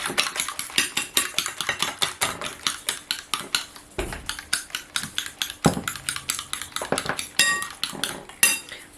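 A whisk or fork beats eggs in a bowl for crispy chicken fillets. Fast, regular metallic clinks and taps repeat steadily, close up and fairly quiet.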